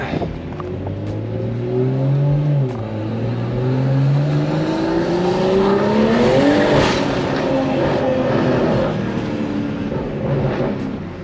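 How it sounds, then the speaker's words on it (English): Car fitted with a Valvetronic exhaust and CMST rear diffuser accelerating, its loud droning exhaust note rising and falling in pitch through gear changes, with burbles and crackles on the overrun, heard from inside. "I think I'll leave the burbles like this."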